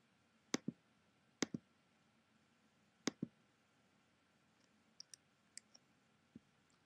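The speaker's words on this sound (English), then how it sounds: "so I can just click here to input text" Sharp mouse clicks while working in Clicker 6 software: paired clicks near the start and again around three seconds, then softer lighter clicks later, close and quiet with no talking.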